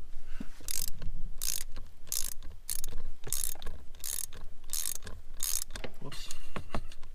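A hand ratchet backs out the bolt securing the shifter on a 2012 Subaru WRX during a Cobb short throw shifter install, giving about eight bright clicking bursts in a steady rhythm, close and clear with no talk.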